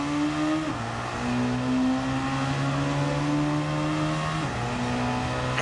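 A big muscle car engine in the racing game Gran Turismo 7 drones loudly and steadily, its pitch climbing under acceleration and dropping abruptly at two gear changes.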